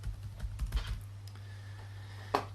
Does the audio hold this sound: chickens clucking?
no